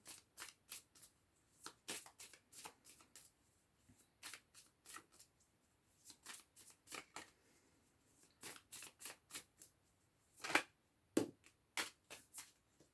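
Tarot cards shuffled by hand to draw a single card, heard as close, quiet bursts of crisp riffles and taps in irregular clusters against a silent background, no voice present.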